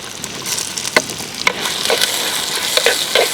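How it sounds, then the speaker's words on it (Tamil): Onions are sautéed in oil and ghee in a clay pot, producing a loud, close, steady frying hiss with a few sharp scrapes and knocks from the stirring spoon, and no voices. "வெங்காயம் வந்து நல்லா கலர் மாற வரைக்கும் வதக்கி எடுத்துக்கலாங்க"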